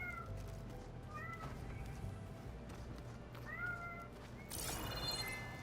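A cat in Horizon Forbidden West meows several times, short rising calls spaced apart over a low game ambience, fairly close and moderate in level.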